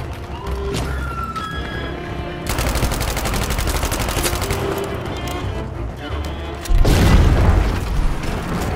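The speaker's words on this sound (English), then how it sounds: "so I thought I'll put my V rocket also on D" A V1 rocket strike in the Battlefield 5 video game: heavy booming blasts and rattling machine-gun fire, loud and close, ending in a big explosion with a rumbling tail.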